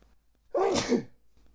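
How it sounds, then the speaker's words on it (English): A single sharp sneeze close up, with a quick breathy buildup and an explosive burst, surrounded by quiet. "I'm going to cut that whole sneeze."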